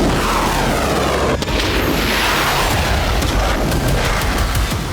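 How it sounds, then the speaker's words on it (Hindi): Missile explosion in Tel Aviv caught on CCTV inside a nearby building, a sharp, loud boom with a burst of noise and rumble while window glass shatters, followed by a sustained roar of debris and echoing crackle. "धमाके के बाद खिड़कियों के कांच टूटते वीडियो में साफ साफ देखे जा सकते हैं"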